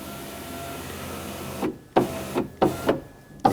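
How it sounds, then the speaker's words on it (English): Rear electric window motor on a 2000–2005 BMW X5 whirs in several short bursts, each brief and close, with quiet pauses between them. "With the ignition on, we're going to lower the window"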